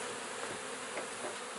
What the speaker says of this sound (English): let the bees settle down